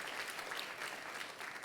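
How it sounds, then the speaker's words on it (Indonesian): Congregation applauding during a church service, a continuous, even wash of clapping from many hands, fairly soft and somewhat distant, sustained through the short stretch. "Tepuk tangannya pula yang paling meriah buat Tuhan."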